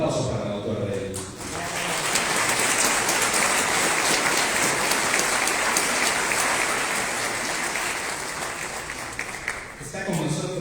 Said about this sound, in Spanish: Nuevamente un aplauso para la autora del libro.